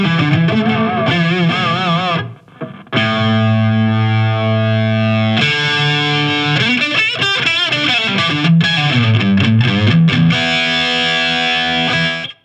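Distorted electric guitar played through a TONEX Cab, a FRFR monitor with a 12-inch Celestion speaker, with its treble cut. It sounds as loud sustained chords and riffs with brief gaps, and no voices.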